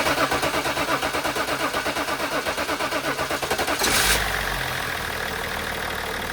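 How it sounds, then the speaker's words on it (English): BMW M57 diesel engine cranks with a fast, rhythmic starter chug, catches with a brief loud rev, then settles into a steady, even idle, close up in a workshop. "Now with the procedure complete, let's try to start the engine."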